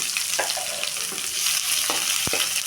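Onions frying with mustard seeds and cumin in hot oil, a close, steady sizzle with a few sharp clicks and scrapes of a spoon stirring, no voices.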